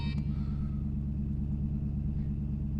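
A 2012 Ferrari 458 Italia with its 600 hp V8 idles in a low, steady rumble, close and continuous with no revving.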